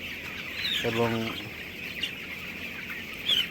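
Thirteen-day-old broiler chickens, cockerels and pullets on wood-shavings litter, chirping and clucking as a steady faint flock murmur with a few sharper peeps, under a single brief spoken word.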